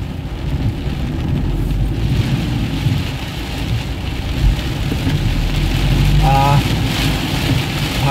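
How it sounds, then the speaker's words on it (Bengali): Heavy, steady rain pours down on a waterlogged street in Kolkata, a dense continuous roar with a low rumble underneath. "বেশ ভালো বৃষ্টি হচ্ছে এবার।"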